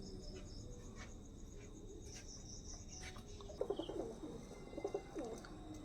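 Rampuri and Teddy pigeons in a loft at night give soft, low cooing that rises in the second half over a steady bed of chirping crickets and insects, with faint bird calls scattered through.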